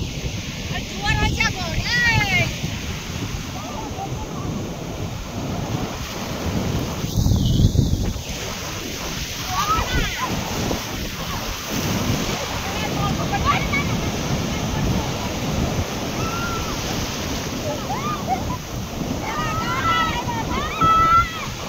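Sea waves and gusty wind near a house on the coast roll and rumble in a continuous broad roar with buffeting on the microphone. Voices talk over it at points.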